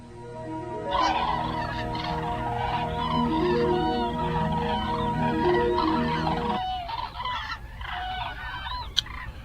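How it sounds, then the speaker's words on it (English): Seagull cries are added as a sound effect on a radio show, a dense flock of honking, squawking calls layered for several seconds before cutting away to fainter scattered calls and a sharp click near the end. "I had to bring in the seagulls here because I wanted to drown out the bad keyboard music that they put between breaks"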